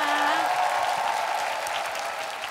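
Studio audience at a Korean TV singing show applauding after a performance, a sustained, even round of clapping with a faint sung or spoken tone underneath.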